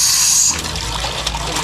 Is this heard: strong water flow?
yes